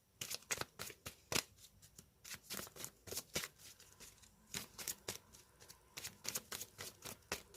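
Tarot cards are shuffled up close in quick, irregular bursts of crisp flicking and riffling snaps with short pauses between them and no voices.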